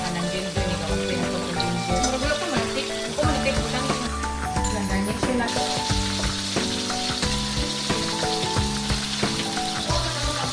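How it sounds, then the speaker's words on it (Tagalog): Rohu fish frying in a pan, a loud continuous sizzle and spatter of hot oil with crackling pops throughout, close up. "ipinrito na ang rohu fish"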